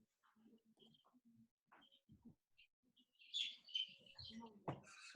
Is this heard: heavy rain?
no